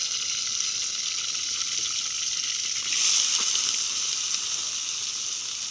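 Onions and tomatoes fry in a pan for a rustic country-chicken curry cooked outdoors on a hillside, a steady sizzle that surges briefly in the middle before settling back to an even hiss.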